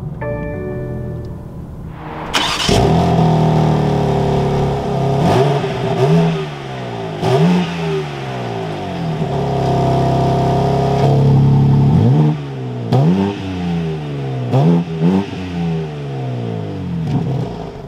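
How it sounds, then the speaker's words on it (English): A 2021 BMW M4 Competition coupe fires up after a moment of quiet with a loud starter-catch flare. It then settles into a strong idle that swells in repeated blips of revving, heard close from inside the cabin. "keeping my foot on the brake, we can go ahead and fire it up"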